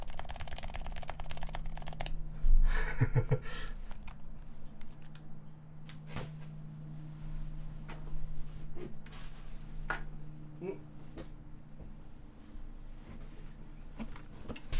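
Clicks of typing on a computer keyboard during a comparison of keyboard sounds, scattered keystrokes and short bursts, fairly close, over a low background hum.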